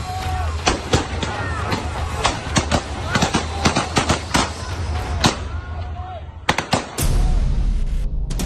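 Loud, sharp gunshots from Russian soldiers in wartime Ukraine crack repeatedly and irregularly over a noisy outdoor din, with crowd voices underneath and a burst of rumbling noise at the end.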